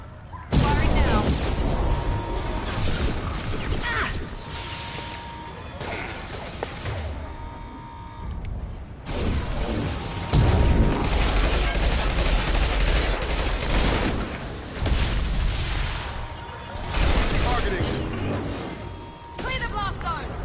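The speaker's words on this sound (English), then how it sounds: "Firing now." Heavy gunfire from the Mass Effect Legendary Edition video game, bursts of rapid loud shots and booms continuing through most of the stretch with a brief lull, game voices speaking over the shooting.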